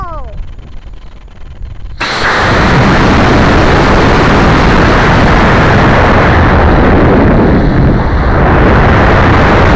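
An Estes Skyhawker model rocket carrying a keychain camera ignites with a sudden loud roaring whoosh after a brief quieter lead-in. The roar continues at full strength to the end, close by.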